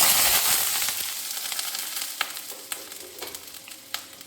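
Potato pieces drop into hot oil in a steel wok for pakoras, starting with a loud sizzling burst that settles into steady frying crackle with sharp pops, close by.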